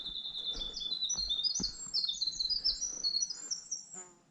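A warbler sings repeatedly from dense cover along a park hiking trail, its bright high chirping phrases fairly close and clear, with soft rustling underneath and no talk.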